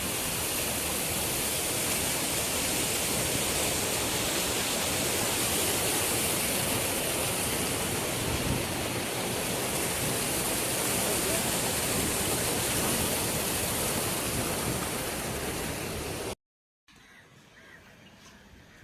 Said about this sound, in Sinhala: වතුර ගලගලා යන විදිය තමයි මේ තියෙන්නේ.